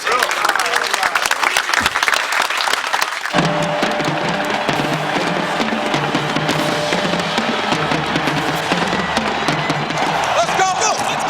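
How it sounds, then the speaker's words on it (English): An audience applauds loudly and steadily at a National Football League event, with crowd noise and cheering mixed into the clapping throughout. "Give yourselves a round of applause."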